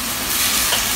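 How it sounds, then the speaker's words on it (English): A loud, close, continuous sizzle comes from food sautéing in a pan seasoned with Italian herbs, chili flakes and salt, with a steady hiss and no talking. "let it saute for 5 minutes"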